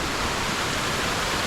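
Jones Gap Falls waterfall pouring steadily, a dense, even roar that fills the whole 1.6 seconds with no pauses, fairly close and loud, with no voices over it.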